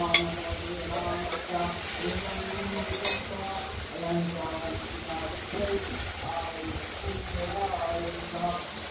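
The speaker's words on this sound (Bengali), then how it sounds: "ঢেঁড়সগুলো এবার দিয়ে দিয়েছি, দিয়ে একটু ভাজা ভাজা করব।" Okra sizzles in a hot pan as it is stirred, with a steady frying hiss and scattered clinks and scrapes of a utensil against the pan while a voice talks over it.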